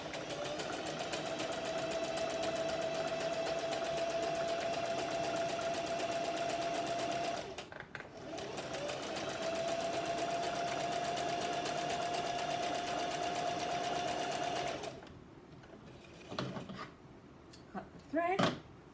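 A Singer Heavy Duty sewing machine stitches a zigzag in two long, steady whirring runs with a brief pause between, followed by softer clicks and handling noises.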